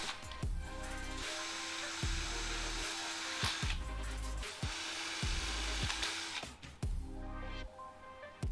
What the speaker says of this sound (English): I'm only drilling the marks on the ends and not the middle of the pipe